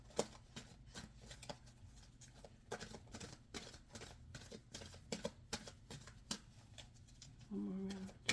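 Tarot cards being shuffled by hand, a run of quick, close riffling snaps and soft slaps in an uneven rhythm, fairly quiet and mostly alone.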